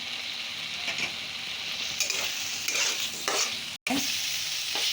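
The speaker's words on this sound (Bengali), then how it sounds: "আমার আলু মশলা ভালো করে কষানো হয়ে গেল" Fried potatoes with spices are sautéed in a pan, producing a continuous close sizzle with intermittent stirring scrapes and a brief utensil clink, without talk.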